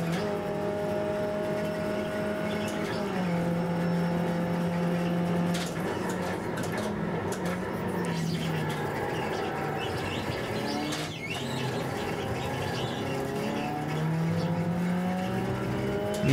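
A Skip Barber race car engine in a racing video game at Spa drones steadily, its pitch rising and dropping through gear changes and corners, with no break across the lap section.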